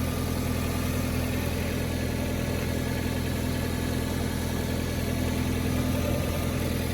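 A Fiat Grande Punto engine idles close by with a steady, dense low rumble and even vibration, unchanging throughout with no talk.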